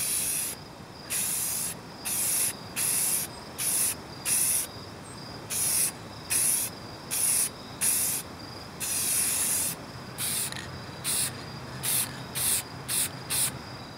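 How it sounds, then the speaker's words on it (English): Repeated bursts of an aerosol spray paint can coating a car headlight, short hissing sprays in an uneven rhythm, close and clear with no talking. "that's it with the spray paint"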